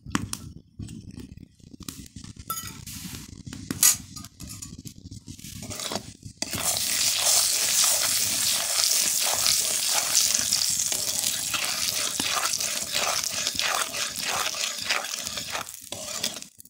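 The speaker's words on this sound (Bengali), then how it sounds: "তেল গরম হয়ে গেছে। এবার সর্ষে আর শুকনো লঙ্কা গুঁড়োটা দিয়ে দেবো।" Mustard seeds and dried chili powder hitting hot oil in a pan while cooking pui shak chachari, a loud steady sizzle bursting in after quieter stirring and clatter, crackling continuously to the end.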